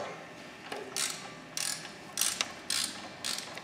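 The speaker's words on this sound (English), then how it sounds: "I might use my wrench to help kind of guide it through." Wrench ratcheting a socket during assembly of a Fly Scout scooter, heard as five short bursts of quick clicking spaced roughly half a second apart, close and fairly loud with no talking.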